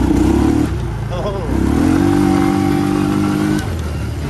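A small kid's motorbike engine idles a little high, giving a loud, steady drone that wavers slightly in pitch throughout.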